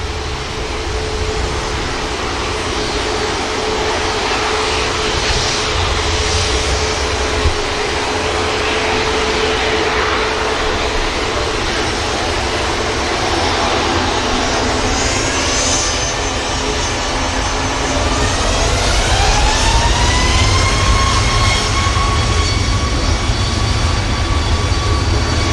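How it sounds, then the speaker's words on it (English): An EasyJet airliner touching down on runway 23 right at Manchester Airport, a loud sustained jet engine roar with a rising whine as thrust changes, heard from a distance without talk. "EasyJet just touching down on 23 right."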